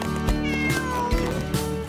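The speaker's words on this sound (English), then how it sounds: "for our kitty cat friend to enjoy" A cat meows in a long, drawn-out call, close and clear, with a few faint soft knocks underneath and no voices.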